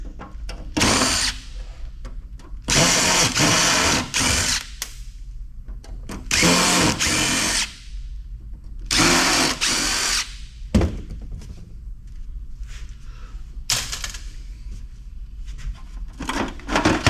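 A power drill removes rusty screws while a PC is scrapped, in several loud bursts of whirring with short pauses between them and no talking.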